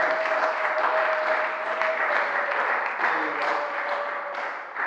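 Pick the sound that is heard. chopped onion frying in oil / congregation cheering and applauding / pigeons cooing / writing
congregation cheering and applauding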